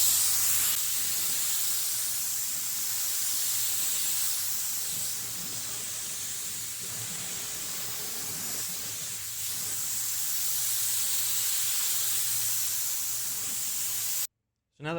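A spray gun laying a second coat of auto body primer, a loud continuous close hiss of spraying that holds steady throughout before a brief break near the end.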